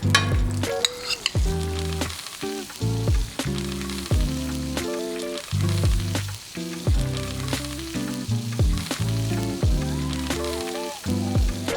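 Salmon fries in knobs of melted grass-fed butter, a close, bubbly sizzle with light crackles, heard under background music with rhythmic tonal notes.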